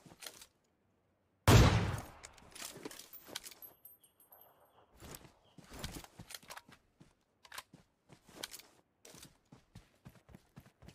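Gunfire in the mobile shooter Game for Peace, with one loud close burst followed by a long run of rapid crackling shots and clicks at varying loudness.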